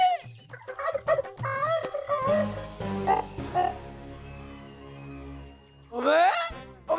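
A hen clucks in a rural village setting, giving throaty, croaking calls in irregular bursts mixed with loud human shouting close by.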